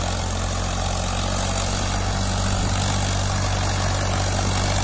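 A new Powertrac tractor engine runs loudly and close by, a constant low rumbling drone that holds steady throughout without pause or voices.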